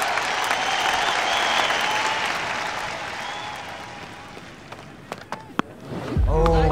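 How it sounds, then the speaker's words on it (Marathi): Crowd applause at a cricket match: a broad wash of clapping and cheering fades gradually over several seconds, followed by a few sharp knocks and a loud voice cutting in at the end. "जोरदार टाळ्या हवा."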